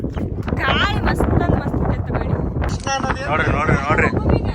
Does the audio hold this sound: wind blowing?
yes